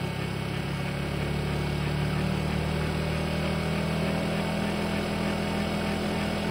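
A distributor test machine spins an original 1970 Pontiac Ram Air III distributor at 5,000 RPM, a steady continuous whirring motor drone with even mechanical hum, close and constant throughout with no voices.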